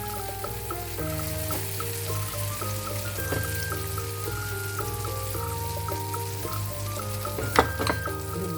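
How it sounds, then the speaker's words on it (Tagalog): Eggplant for tortang talong frying in a hot pan, a continuous sizzle with a few pops and clatters, under background music. "mainit na ang ating kawali. Atin nang iluglog ang ating talong"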